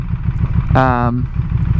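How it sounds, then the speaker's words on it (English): Buell Hammerhead 1190 motorcycle engine idling low after a ride, with a choppy rumble and revs sagging, plus a brief tonal whine partway through, close and loud. "revs dropping a little bit"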